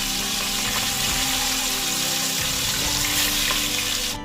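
Fish heads fry in a generous amount of mustard oil for fish pulao, giving a loud, dense, continuous sizzle up close with no pauses.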